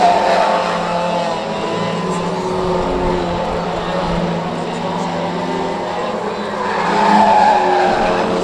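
Pro stock cars racing around the Cowdenbeath Racewall oval, engines roaring loud and close with tyre noise as the field passes, swelling again near the end, under a faint commentary voice.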